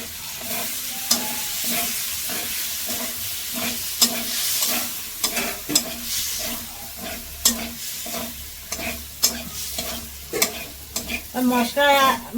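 Spice paste made with ground red capsicum fries in oil, a close, loud sizzle under regular rhythmic stirring strokes that grow busier toward the end, with no talking.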